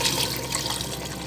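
Milk and hot water marinade poured into a cooking pot, a brief, continuous liquid splash and gurgle heard alone and close up.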